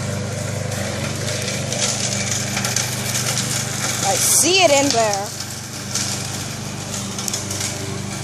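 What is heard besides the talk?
lawnmower running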